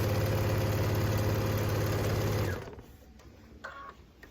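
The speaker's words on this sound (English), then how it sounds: "I'm going to go from the corner, and I'm going to sew this down" A sewing machine stitching down quilt binding, running with a loud, steady mechanical whir that stops abruptly partway through, followed by a few soft handling sounds.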